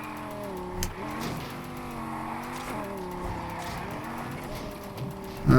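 A Lamborghini Huracan Spyder drifts in the racing game NFS Heat, its engine droning steadily with shifting pitch and tire squeal, plus a sharp impact at the end.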